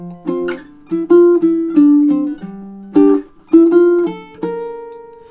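Baritone ukulele plucking a melodic riff for measures 5 and 6, clear close notes in a bouncy rhythm with short pauses between phrases and a final sustained note, no talking.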